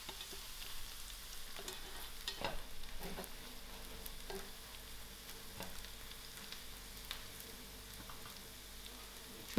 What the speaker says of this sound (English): I will allow my onions to fry out a little soft.